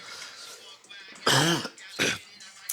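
Two harsh coughs, close and loud, separated by a short pause, with faint background noise.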